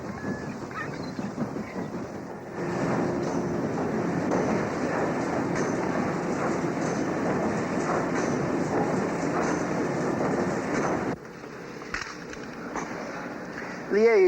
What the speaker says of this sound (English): This coal-burning steamer, which we are on, is a relic of the Industrial Revolution.